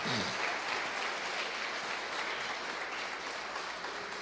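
A church congregation claps in unison for Jesus, a steady wash of many hands heard at a distance that carries evenly through the whole stretch without any voices rising above it.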